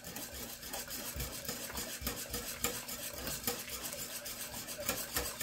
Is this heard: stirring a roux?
yes